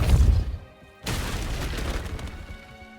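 A Depulso spell cast in Hogwarts Legacy fires off as a sudden booming burst, with a deep rumbling blast followed by a sharp onset of crackling impact noise that fades over a couple of seconds.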